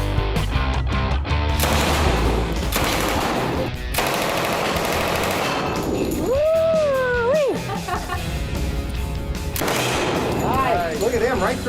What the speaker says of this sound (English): We shot an Uzi.